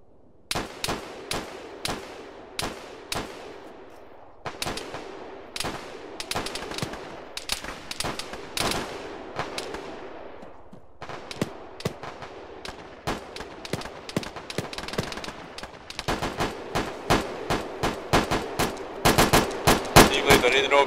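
Sustained gunfire in the Arma video game during a ShackTac Fallujah urban assault mission: volleys of sharp rifle and machine-gun bursts, some near and loud, others echoing farther off, growing denser and more rapid toward the end.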